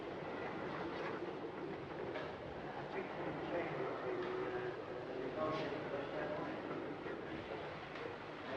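A train rumbles steadily into York station, a continuous rolling roar with faint squeals of wheels, while voices murmur in the background.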